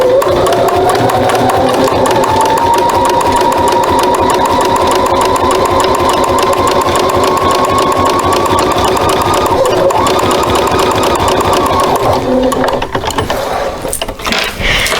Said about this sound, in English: I'm going to start stitching again